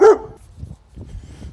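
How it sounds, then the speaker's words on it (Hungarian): A single sharp dog bark right at the start, loud and close, followed by quiet low rumbling background with no voices. "csak ez a kutya állandóan beleugat"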